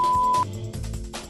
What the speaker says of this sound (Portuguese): Ao término do tempo programado, o bip sonoro será acionado.